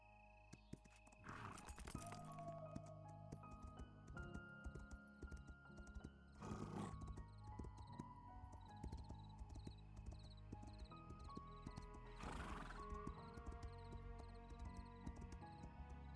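A horse neighs and whinnies several times in the video game Pantheon, its calls loud and close, with hoof clip-clops and a steady ambient game backdrop in between.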